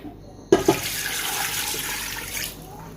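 Water gushes steadily into a metal cooking pot holding lamb for about two seconds after a brief clank, a continuous close pouring rush that then stops.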